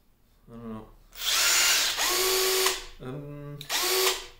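Cordless impact driver running lag bolts into pilot-drilled wood: loud bursts of whirring, hammering drive, the first around 1–2.7 s and another near 3.7–4.4 s, with brief talk before and between them.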